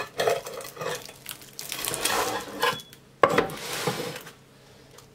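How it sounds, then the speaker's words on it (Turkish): Baked börek lifted out of a metal baking tray, with clattering scrapes of a utensil against the pan in irregular bursts and a sharp knock near the end, close by. "Şöyle rahat rahat servis etmek için tepsiden çıkaracağım."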